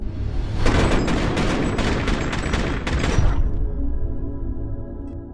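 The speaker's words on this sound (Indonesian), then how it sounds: "para polisi langsung duluan menembak Jojo sampai membuatnya tewas seketika" Gunfire from police shooting in an action film: a dense, loud burst of rapid shots and booms lasting about three seconds, then cutting off into a quiet low hum.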